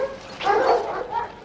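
A dog in a TV drama scene lets out a brief, rough bark and a softer follow-up yelp, fairly close and alone without talk.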